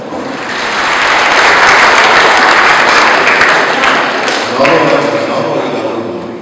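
An audience at a parish knowledge quiz about the Sianów sanctuary bursts into loud, dense applause that swells for several seconds and then tapers off, with a voice briefly heard near the end.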